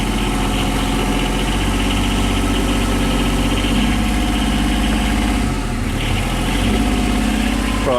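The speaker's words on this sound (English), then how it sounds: "It's on tick over at the moment." A boat engine idles steadily at tick over, a constant deep rumble with a throbbing rhythm and no voices.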